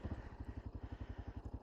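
A small single-cylinder engine on a centrifugal-clutch machine revs up from idle, giving a fast, even chugging pulse at close range, with no talking over it.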